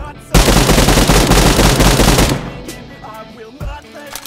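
Rapid automatic gunfire from BGMI gameplay, with a loud, continuous burst of close shots for about two seconds that cuts off abruptly, followed by a few scattered softer thuds and clicks.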